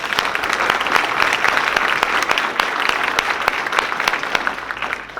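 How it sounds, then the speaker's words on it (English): An audience claps for several seconds straight after a senator's campaign speech, a loud dense patter with no voices over it. "So they deserve actually another round of applause there."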